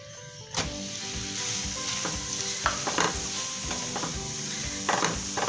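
Sweet potato being stirred into hot jaggery syrup in a pan for puranpoli, a steady sizzle under repeated scraping and clacking strokes of the spoon, close and moderately loud, with no talking.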